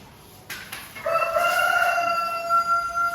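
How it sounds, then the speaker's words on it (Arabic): A rooster crows loudly and close by, one long drawn-out call rising then holding steady, with faint background noise and no talking. "اكو دجاج"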